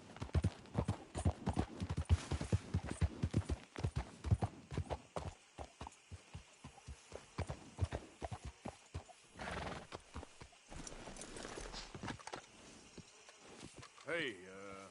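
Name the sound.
horse hooves and whinny in video game Red Dead Redemption II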